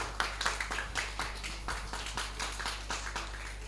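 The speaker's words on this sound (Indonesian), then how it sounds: "Tepuk tangan untuk mereka" An audience applauds young child performers at a youth speech competition grand final with a loose patter of many hands clapping, moderately distant and steady over a low background hum.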